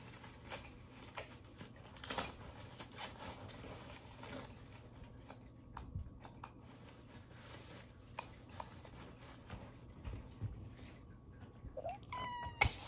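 A kitten meows softly a few times against a steady background hum, with scattered faint clicks and taps.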